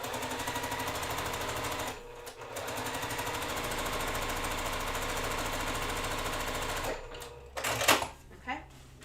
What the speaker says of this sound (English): I'm just going to sew the 3 together